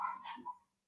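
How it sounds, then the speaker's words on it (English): A single short dog bark or yip, faint and fairly distant, fading quickly into silence. "sorry about the dogs. They're just part of the brand at this point."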